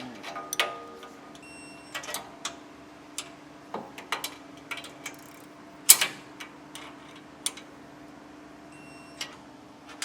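A 3/8-drive ratchet with a short 9/16 socket turning a bolt on a trailer crossmember of a 2023 Palomino Puma Unleashed, giving quiet, irregular clicks and ticks spread over ten seconds with faint metallic knocks.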